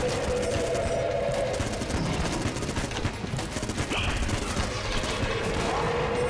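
Rapid, continuous Vulcan cannon fire in the Enter the Gungeon video game, a loud dense stream of shots that runs the whole time with brief tonal game effects layered over it.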